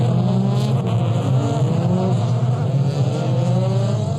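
Euroformula Open single-seater race cars at Estoril rev their engines loudly during the formation lap, a dense, sustained engine roar with rising and falling pitch, close and continuous, with no talking.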